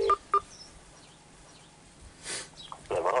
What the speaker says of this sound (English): Okay, let's dial him up.